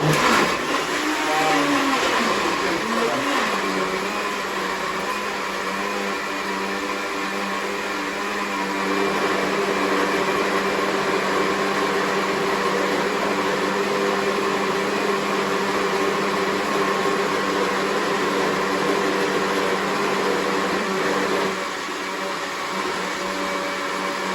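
A blender runs steadily on a mango, banana and berry smoothie, a loud continuous whirring motor drone close by, holding constant throughout with slight shifts in pitch as the fruit breaks down.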